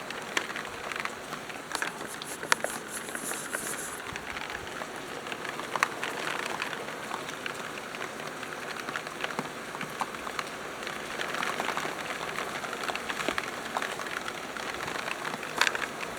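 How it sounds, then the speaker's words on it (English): Rain pelting down during a thunderstorm, heard from indoors near an open window as a dense, constant patter with scattered sharper drops, steady and fairly loud throughout. "We're getting pelted with rain."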